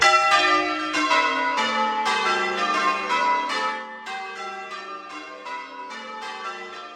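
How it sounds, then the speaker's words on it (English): Church bells ring out in a steady peal, overlapping strikes with a long ringing decay, clear and fairly close, with no voices. "the ringing of church bells"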